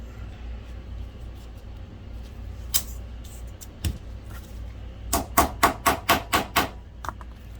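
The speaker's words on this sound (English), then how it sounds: "I couldn't pop it or squish it, so I hammered it back." Metal hammer taps on a slightly bent projector cover from a BenQ HT1075 DLP projector, a few scattered strikes followed by a quick run of about seven sharp, evenly spaced blows, close and crisp.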